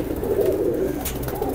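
A large Shisham highflyer pigeon coos in a low, soft, continuous warble, close by, with faint background noise.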